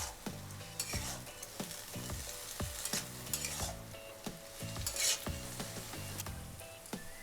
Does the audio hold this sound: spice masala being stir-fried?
yes